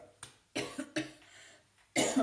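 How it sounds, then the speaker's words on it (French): Several harsh coughs close by, a single one first, then a pair of bursts, a pause, and a final loud cough, with no talking. "j'arrête pas de tousser"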